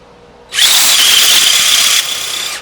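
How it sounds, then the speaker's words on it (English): A power drill drives a tap into wood to cut threads, a loud high whining motor that starts abruptly, holds steady, then drops slightly in pitch as it works before ending. "I chuck up appropriate tap into my power drill"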